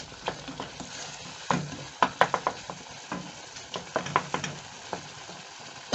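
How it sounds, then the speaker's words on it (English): Dry fry beef sizzles in a pan as pilipili is stirred in, with repeated sharp spatula scrapes and knocks in an irregular rhythm over a soft, steady frying hiss; nobody speaks. "Then you stir it up."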